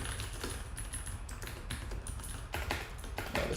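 Rapid, irregular keystrokes clatter on a computer keyboard during a programming lecture, close and fairly faint, with bursts of quick taps and short pauses.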